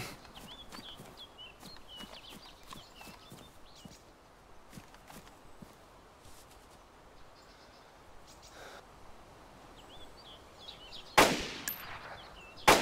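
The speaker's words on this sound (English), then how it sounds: "I just got two 200 meter headshots." Rifle gunshots ring out in the DayZ survival game: a scatter of faint, distant cracks among quiet background ambience, then one sharp, loud shot near the end.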